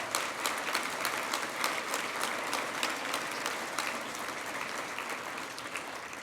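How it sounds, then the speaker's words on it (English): An audience at a Denver small business week event applauds SBA loan and award recipients, a steady wash of many hands clapping at moderate distance, continuous throughout. "Can everyone give them a big round of applause?"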